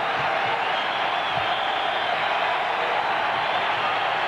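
A stadium crowd of over 40,000 at a 1993 Blue Jays–Yankees baseball game makes a steady, broad roar of cheering throughout, distant and continuous with no distinct claps or voices standing out.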